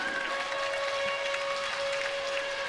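Basketball arena crowd during a Bristol Flyers versus Plymouth Raiders Southwest Derby, a steady wash of cheering and applause filling the hall with a sustained whistle-like tone running through it, no clear voices standing out.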